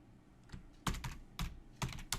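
Keys tapped on a computer keyboard while entering data into a spreadsheet, a quiet uneven run of clicks in small clusters, close and without talk.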